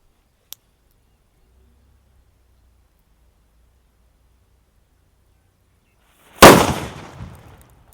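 A paper bomb firecracker from Sivakasi explodes with a single loud, sharp blast after a long quiet wait, its noisy crackle trailing off over about a second; a faint click is heard early on.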